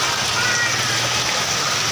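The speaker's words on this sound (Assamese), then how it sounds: "বৰষুণ আহি গ'ল" Heavy rain pours down in a hot region, a dense, loud, continuous rushing wash of water that holds steady for the whole short stretch.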